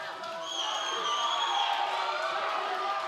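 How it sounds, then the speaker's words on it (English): An arena crowd cheers and roars at a UFC bantamweight bout, a dense sustained wall of voices that swells after a moment and stays loud, with whoops and shouts rising above it. "the crowd's on their feet"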